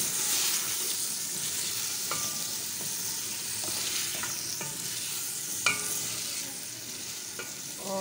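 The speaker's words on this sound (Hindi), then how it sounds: "तो इसमें अब मैं मटर डाल दूँगी, इनको थोड़ा मिक्स करूँगी।" Peas being stirred into potatoes and minced meat frying in a pan, with a steady sizzle and scattered clinks and scrapes of a spoon against the pan at an irregular pace, close and alone.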